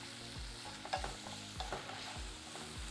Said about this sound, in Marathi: आता याच्यामध्ये भाजलेला जवळा घालून फक्त मिक्स करायचं आहे